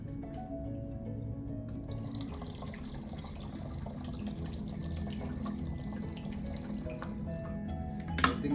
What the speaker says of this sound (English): So I'll add a little bit more water over here.